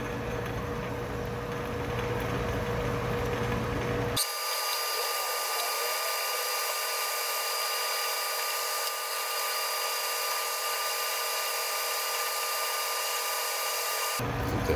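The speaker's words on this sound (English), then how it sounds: "I'm not really sure how good this chuck will be for a reamer." A reamer spins in a drill chuck while making Kant Twist style clamps, a loud continuous high whine that starts abruptly after a few seconds of lower machine noise and runs steadily until the end.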